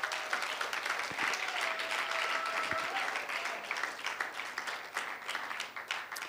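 A church congregation applauds the Lord, with dense, steady clapping from many hands throughout, and a few brief voices rising over the crowd.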